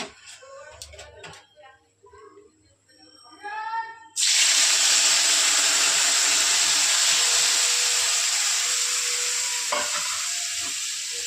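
Pabda fish frying in a pan with mustard paste and turmeric, a loud steady sizzle that starts abruptly and holds, with stirring scrapes, after a few clinks and a voice talking at the start.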